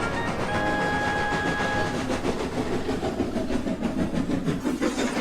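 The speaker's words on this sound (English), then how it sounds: "the two engines puffed into the harbour" Two steam engines pulling fish vans into a harbour make a steady rolling rumble with rhythmic clatter, a faint whistle-like tone early on, heard close and continuous.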